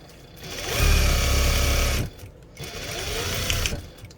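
A sewing machine stitches fabric for catnip cat toys in two close, loud bursts of steady mechanical whirring, separated by a brief pause.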